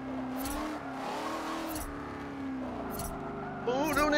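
A race car engine in Forza Motorsport 7 during an autocross run, droning and shifting pitch as it revs, with a sharper rise near the end and a voice talking over it throughout.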